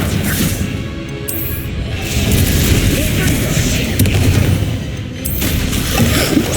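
Explosive spell blasts in the video game Hogwarts Legacy: loud booming impacts and crashing bursts in rapid succession, layered over dense combat noise, with a brief voice calling out.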